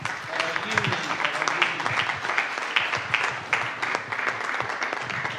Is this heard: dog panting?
no